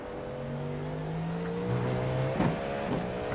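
Race car engines in the iRacing simulation at Sebring's 12-hour race, several cars holding steady droning pitches that rise and overlap, with a brief louder burst near the end; no talking.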